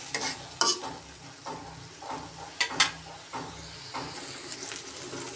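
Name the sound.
spice paste frying and being stirred in oil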